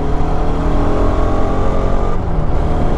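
A Bajaj RS200 BS4 motorcycle engine drones loud and close while being ridden, a steady unbroken roar with a slight dip near the end.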